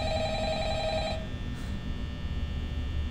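A telephone in the Five Nights at Freddy's video game rings with a steady electronic tone for about a second, then cuts off, leaving quiet background hum.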